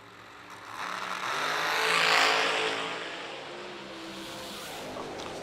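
A dragster runs down a drag strip, a distant engine roar that swells to a peak and then fades as it passes, heard from far off with no talk over it.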